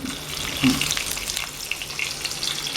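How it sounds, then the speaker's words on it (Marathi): Garlic sputters in hot oil for a Maharashtrian phodani tempering, a steady close hiss and crackle with a brief louder burst near the start, no talking. "आता पुढे हे तेल तापलं की नंतर लसूण टाकायचं"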